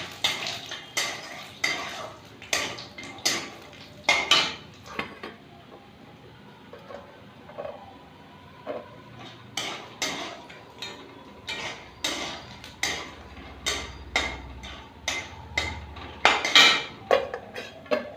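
Cashews fry in oil with peanuts, bay leaf and spices in a pan for pulao, while a metal spatula scrapes and clinks against the pan in a steady, repeated rhythm, loud and close.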